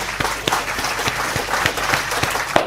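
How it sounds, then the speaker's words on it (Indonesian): Classroom applause for a student discussion group: a brief, fairly loud burst of clapping from a small group, with a few sharper individual claps standing out. "Ya, tepuk tangan dulu dong buat kelompok 1 dong."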